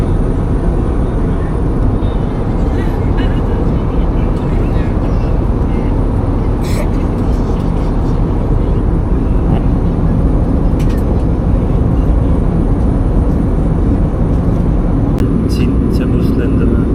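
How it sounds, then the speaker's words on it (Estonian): Steady, loud low roar inside an airliner cabin as it descends toward Manila, a constant broadband rumble throughout with a few faint clicks and someone speaking over it. "Vaikselt hakkame kõrgust ka juba langetama lennukile, maanduma."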